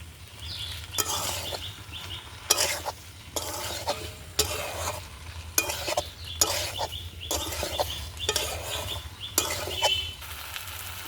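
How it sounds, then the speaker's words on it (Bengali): Fried papaya is tipped into a pan for a prawn and taro curry and stirred, giving rhythmic scraping strokes of a spatula over a steady low sizzle, about a dozen repeated stirs close up. "ভেজে রাখা পেঁপে ঢেলে দেবো।"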